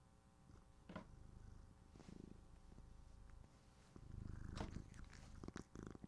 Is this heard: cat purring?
yes